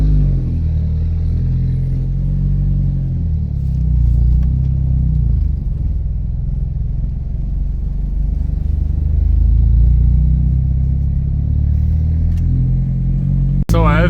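Steady low engine drone of an Audi A4 B7 with the 1.8T engine while driving, a loud continuous rumble with mild swells in revs throughout, cold oil and a persistent engine noise fault noted.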